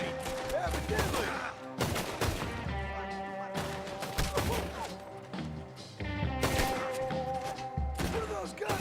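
Rapid bursts of gunfire in Red Dead Redemption 2, repeated loud volleys and cracks across the stretch with sharp transients, over a game soundtrack and ambient background.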